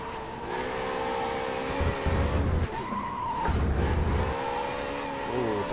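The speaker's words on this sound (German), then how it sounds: "Oh, das war ein blockierender Reifen." A locked-up tyre skids in the racing game Race07, giving two sharp, loud screeches over a steady car engine drone, with no talking.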